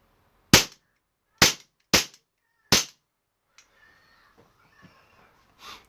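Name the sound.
four shots fired from a CO2 Remington 1911 air pistol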